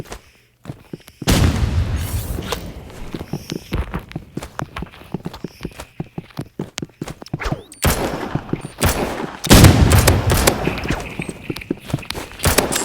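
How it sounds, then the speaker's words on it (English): Assault rifle auto-fire in the Roblox Rivals game crackles in rapid bursts of sharp gunshots with booming impacts, loud and near, across several firing stretches. "I'm turning on auto shoot. I'm using a assault rifle."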